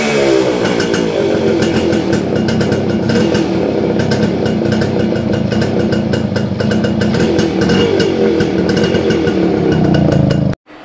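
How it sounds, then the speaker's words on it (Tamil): A Yamaha RX100 motorcycle exhaust fitted with a Max100 silencer insert, loud and close, revving in a dense, rapid two-stroke beat that holds steady for about ten seconds before cutting off abruptly. "இந்த மாதிரி மஃப்ளரை உள்ள நீங்கள் போடும்பொழுது வந்து பார்த்தீங்கன்னா என்ன மாதிரி பீட்டு வருங்கிறத நீங்கள் இப்போ கேட்டுருங்க."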